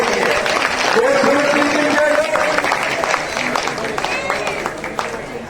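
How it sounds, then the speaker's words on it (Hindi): A crowd claps to welcome an MLA at a political gathering, sustained applause mixed with cheering voices and shouts, fairly loud and steady before easing off slightly at the end. "विधायक जी का स्वागत करते हुए तालियां लगाती है"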